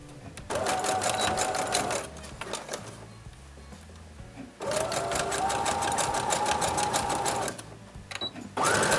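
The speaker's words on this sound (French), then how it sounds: "Et je vais venir faire un point zigzag pour maintenir ça en place." A sewing machine runs a wide zigzag stitch over elastic on trousers in two long, fast whirring bursts separated by a short pause and handling noises, close and loud, with another burst starting at the end.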